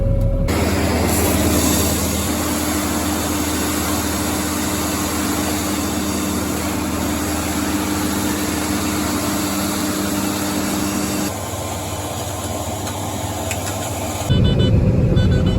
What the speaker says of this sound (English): we're using his grain vac to clean this up